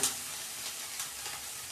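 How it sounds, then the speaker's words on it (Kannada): Garam masala roasting in a hot pan gives a steady bright sizzle with faint stirring scrapes, close and continuous with no voices. "ಒಂದು ಸ್ವಲ್ಪ ಗರಂ ಮಸಾಲೆ ಚೆನ್ನಾಗಿ ಸ್ವಲ್ಪ ರೋಸ್ಟ್ ಮಾಡ್ಕೊಳ್ಳೋಣ"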